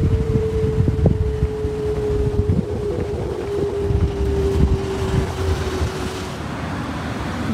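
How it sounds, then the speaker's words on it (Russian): An outdoor breeze in Santa Monica blows steadily across the microphone as a continuous rushing buffet, with a faint hum running underneath throughout. "Ветерок дует."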